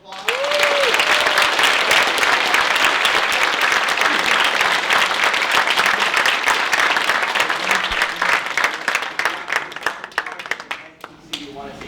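Sustained, loud audience applause after a STEM talk, dense steady clapping from a large crowd that fills the whole stretch and tapers slightly near the end, with a few voices mixed in.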